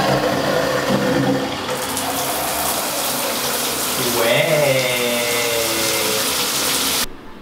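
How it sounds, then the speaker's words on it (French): Steady loud rush of water from a newly installed Jacob Delafon shower column in a home bathroom renovation, continuous hiss with a brief pitch shift midway, then cutting off abruptly at the end. "on va allumer l'eau, vérifier qu'on n'a aucune fuite et puis voir si ça fonctionne bien"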